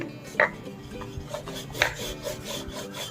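Stiff semolina dough for rava kajjikayalu is kneaded and mixed by hand, giving soft rubbing and squishing sounds with a few sharper knocks against the bowl.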